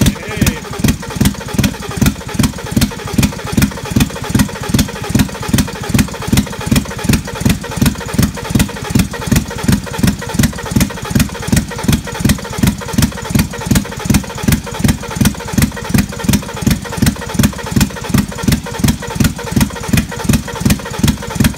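An engine on a project car being turned over with a starter wire, a loud rhythmic chugging of rapid, even pulses continuing steadily throughout without catching into a smooth idle.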